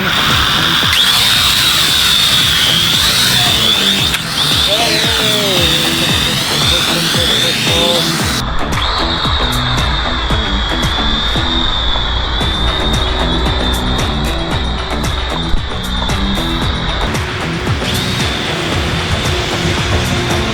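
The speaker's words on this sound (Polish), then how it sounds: "Jak widzicie ten dron lata, tylko jest troszeczkę źle skalibrowany" A cheap, poorly calibrated drone flies close by with a steady high-pitched propeller whine that shifts pitch as it maneuvers, louder and busier in the second half, with brief speech.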